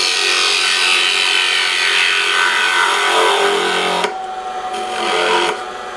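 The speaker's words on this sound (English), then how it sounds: "I'm cutting with the supported fibers, and I'll get a pretty clean cut" A hand tool cuts wood along the grain, making a steady, close rasping scrape for about four seconds before it drops to a softer, thinner scratching.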